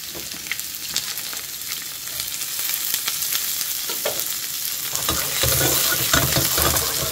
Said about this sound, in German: Okay, langsam anbraten.